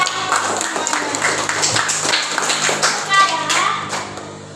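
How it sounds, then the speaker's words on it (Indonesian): Children clap their hands together in a classroom, a loud, uneven patter of many small hands, with children's voices chattering underneath. "Tepuk tangan semuanya."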